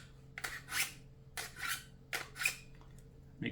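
Scissors are drawn through a four-stage knife sharpener in repeated scraping strokes, each a bright metallic rasp lasting a fraction of a second, about five in a row, close and fairly quiet.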